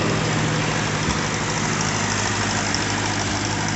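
A Ford NAA Jubilee tractor engine idles steadily close by, a constant low rumbling chug with no change in pace and no voices over it.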